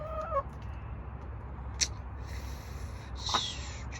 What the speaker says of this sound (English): So Duchess and Rhoda are the new chickens